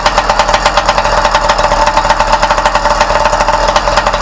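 Motorcycle engine idling steadily up close, a loud, even, rapid mechanical pulse with a constant low rumble underneath, continuing unbroken.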